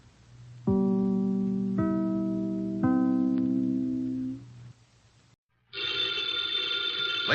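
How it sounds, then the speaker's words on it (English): An old-fashioned telephone bell on a vintage radio broadcast rings in three separate clanging bursts, each tone decaying, followed by a brief silence and then a harsher, buzzier ring. "the ringing of that phone bell brings you mystery, adventure"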